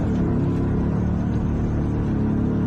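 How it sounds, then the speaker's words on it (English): A vehicle engine runs at a steady idle, its low, dense rumble loud and continuous throughout with no voices over it. "this thing's engine sounds like a BeamNG car's engine"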